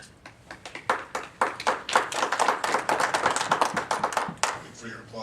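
An audience claps at a political field debate, giving a dense, close patter of many hands that swells and holds for several seconds before thinning, with a voice speaking over it.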